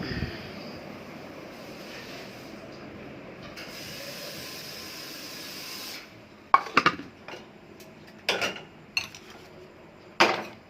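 Steady low background hum, then a few sharp metallic clanks and clatters of cookware being handled and set down, close by.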